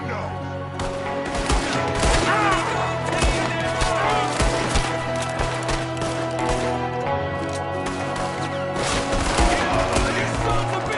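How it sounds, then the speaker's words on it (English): Red Dead Redemption 2 shootout with an enemy firing from a window: dense, continuous gunfire crackles and pops at close range, with sharp rapid shots layered over a busy battle backdrop. "There's another one shooting from the window."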